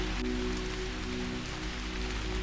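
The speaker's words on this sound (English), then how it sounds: "the rain continues to fall" Steady rain falls across a surface in a continuous, even hiss at moderate level, with a low hum beneath and no voices.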